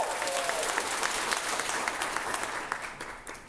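Crowd applause at a United Way campaign kickoff event, dense steady clapping from many hands that tapers off over a few seconds.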